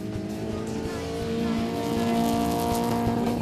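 A Suzuki Sierra's 1.3-litre fuel-injected engine revs and roars continuously as it races around a track, with rising intensity and a dense, rough motor drone.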